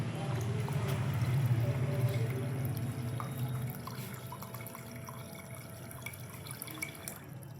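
Water pours steadily into a filling tank in a small emerging water technology project setup, a soft continuous trickle and splash with faint dripping, fairly close and quiet, slightly fading toward the end.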